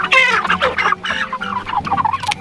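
Chickens cluck and squawk on a homestead, a close, busy flurry of overlapping fowl calls with no talk.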